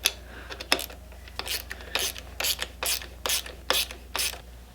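Ratchet wrench tightening the nut on an aluminum lever of a BMW F800GS motorcycle, a run of about ten quick clicking ratchet strokes in an even rhythm, close and clear without talk.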